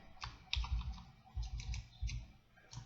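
Computer keyboard arrow keys pressed repeatedly while nudging a roof in Sweet Home 3D architectural software, a series of close, soft clacks in an uneven rhythm, about eight presses alone.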